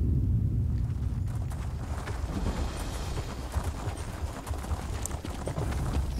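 Horse hooves clip-clop steadily while riding along a road in The Elder Scrolls Online, a continuous close rhythm of hoofbeats over low rumbling game ambience with no talk.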